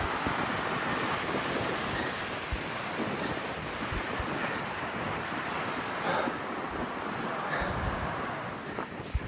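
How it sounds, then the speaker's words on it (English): Strong wind roars across the summit trail at Hunter's Peak in the Guadalupe Mountains, a steady, loud buffeting rush against the microphone with small gusts and no voices throughout. "Super windy up here."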